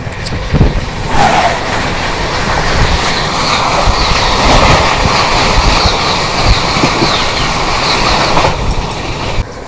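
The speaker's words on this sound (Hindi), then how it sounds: "और अभी यहाँ पे क्रॉसिंग हो रही है अपनी साइरांग आनंद विहार टर्मिनल राजधानी एक्सप्रेस के साथ" A Rajdhani Express thunders past at a railway crossing, a loud, close, continuous roar of wheels and rattling coaches with clicking rail joints, lasting the whole stretch with no talk.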